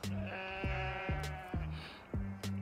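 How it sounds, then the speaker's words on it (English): Baby goats on a farm bleat close by, with four or five wavering cries in a row, each separated by short pauses. "So he has a ton of goats. There are 2 little baby ones right there."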